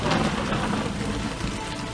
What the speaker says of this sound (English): clouds come in overhead, the rain comes down, you actually see lightning striking the ground